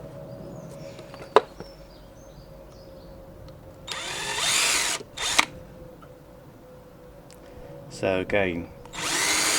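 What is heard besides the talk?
drilling screw holes with narrow drill bit in wood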